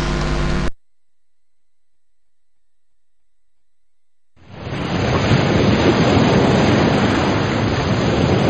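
An ocean-waves sound effect in children's alphabet software starts after a brief cut-off tone and a long silence, then swells into a loud, steady wash of surf that continues to the end.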